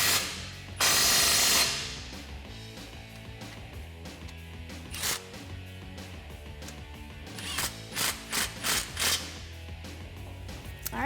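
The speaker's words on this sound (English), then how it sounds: "we're just going to go ahead and tighten up our clamps here on each side" Ratchet tightening the exhaust clamps on each side of a 2011-2014 Mustang GT Ford Performance axle-back: close ratcheting clicks in short rhythmic bursts, the loudest run late on, after a brief hiss, with no talking.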